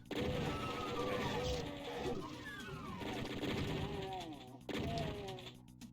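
Chaingunner enemies firing chainguns in the video game Doom, rapid clattering bursts of gunfire mixed with descending whooshing effects and game noise, fairly loud and busy.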